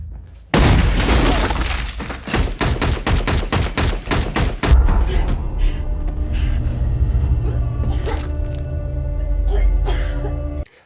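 A film gunfight erupts with a dense rapid volley of loud gunshots and shattering glass, then scattered shots, debris and echoing clatter fading to lower background noise.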